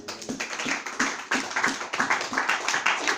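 A church congregation claps in unison to acclaim the Lord, a steady rhythm of sharp, close hand claps repeating roughly every third of a second, with only faint voices underneath.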